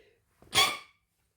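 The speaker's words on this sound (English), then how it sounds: "that was a sneeze" A single short, sharp sneeze bursts out close to the microphone after a quick intake of breath, followed by silence.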